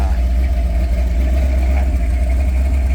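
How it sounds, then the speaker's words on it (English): A 1986 Jeep CJ7 with a small-block Chevy V8 and automatic transmission idles a little high with a slight lope, a loud, steady, close rumble that carries on without a break. "now I got it idled up a little bit too high, but it has a little bit more lope to it."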